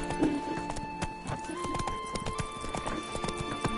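Hooves of the horse Roach in The Witcher 3 clip-clop in a quick galloping rhythm, close and clear over game ambience, with a brief whinny near the start.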